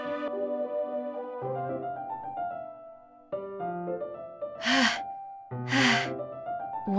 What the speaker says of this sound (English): It sounds like breathing. A sharp inhale, like someone sucking the air through their teeth.